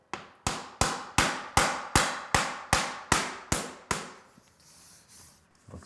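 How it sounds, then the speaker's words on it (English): A regular hammer taps vinyl plank flooring into place, ten sharp, evenly spaced strikes close to the microphone before the blows stop and the room falls quiet. "I'm going to use a regular hammer."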